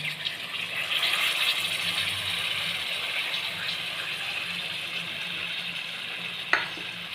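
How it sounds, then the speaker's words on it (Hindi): Mixed vegetables fry in a pan with a steady sizzle and stirring as soy sauce is added, close and fairly quiet, ending with a single sharp clink. "अब मैं इसमें सोया सॉस डाल दूँगा"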